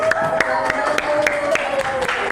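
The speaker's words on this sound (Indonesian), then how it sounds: "Kita beri tepuk tangan untuk kelompok 1." Students in a classroom clap in a steady, evenly spaced rhythm for a student group, each sharp clap standing out over a low murmur and a faint background hum.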